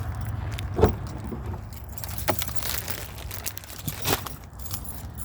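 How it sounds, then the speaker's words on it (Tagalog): Keys jangle and rattle as a car is unlocked and opened outdoors on a snowy evening in Canada, a few sharp metallic clinks and clicks over a low steady background hum, fairly faint and with no talking. "Kahit lang buksan ko lang yung sasakyan."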